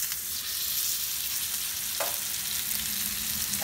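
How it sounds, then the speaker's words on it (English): Maple chicken sizzles loudly in a hot, smoking oiled cast iron skillet, a continuous close hiss and crackle with a brief louder spurt partway through, no talking. "I hope the sizzling sound isn't too loud for the headphone users."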